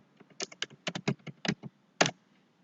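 Fingers tapping on a computer keyboard, a quick, uneven run of crisp, close keystrokes with short gaps, ending with one louder stroke after a pause, otherwise quiet.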